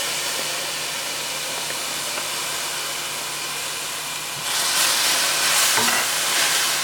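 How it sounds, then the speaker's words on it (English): Green seasoning sautéing in oil in a large skillet, a loud continuous sizzle that surges brighter partway through as stirring stirs up the pan, with no voices. "We are going to saute the seasoning, and we are going to cook the ground beef."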